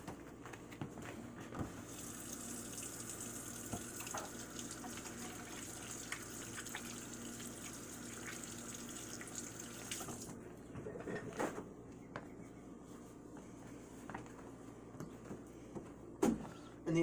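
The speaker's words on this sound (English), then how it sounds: "So, first thing I'm going to do is wash my hands." Steady running water from a kitchen tap as hands are washed before cooking shrimp risotto, a continuous close splashing wash for about ten seconds that then stops, followed by a few faint handling knocks.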